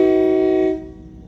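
Train horn sounding one loud, sustained steady blast that cuts off abruptly, followed by quiet.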